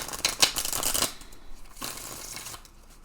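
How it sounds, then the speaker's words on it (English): A deck of tarot cards is shuffled by hand at close range, two soft riffling bursts of papery flutter separated by a brief pause. "Let's just give these a shuffle."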